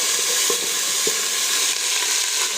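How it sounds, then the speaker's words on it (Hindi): Ginger and garlic sauté in hot oil in a pot, giving a steady close sizzle with faint crackles and a couple of brief stirring clinks, no voices. "सौते कर लीजिए।"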